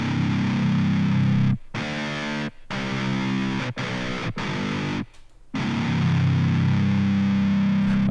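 A MIDI guitar plays a distorted note with a loud, sustained, buzzing tone, broken by several brief silent gaps before it swells again, with no talking.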